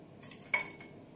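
A metal ladle clinks once against a plate while adjika is prepared in a kitchen, giving a quiet, bright ring that fades quickly over a faint steady background hum.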